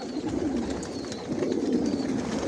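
Pigeons at a racing pigeon loft coo in a steady low murmur, several birds overlapping continuously at close range with a soft ambient hum behind them.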